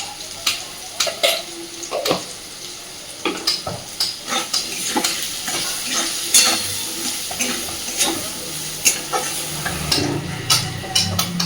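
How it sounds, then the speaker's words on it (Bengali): Potatoes seasoned with salt and turmeric fry in a pan while being stirred, giving a steady close sizzle broken by frequent scraping and clattering strokes of the spoon throughout, with no talking. "এদিকে দেখুন, আলু আমার সুন্দরভাবে ভাজা হয়ে গেছে।"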